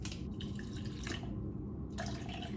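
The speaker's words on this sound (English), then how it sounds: "So I'm gonna add water into this and blend this." Water poured onto powdered green matcha in a small vessel, a bright splashing, trickling stream in two bursts separated by a brief pause, close and fairly quiet with no talking.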